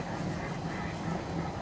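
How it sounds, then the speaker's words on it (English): Many ducks on open water at Snicarte quack in a dense, continuous chorus, a busy wash of calls with no single bird standing out. "A lot of ducks, huh?"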